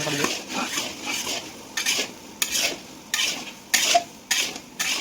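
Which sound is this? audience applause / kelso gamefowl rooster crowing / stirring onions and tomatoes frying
stirring onions and tomatoes frying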